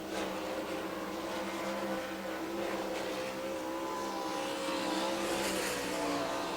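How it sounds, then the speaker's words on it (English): Race cars accelerating together at the green flag of the AGCO Jackson Nationals finale, a dense, distant roar of engines droning and building steadily over the whole span, with no talking. "Cars begin to accelerate. Green flag will wave this time by."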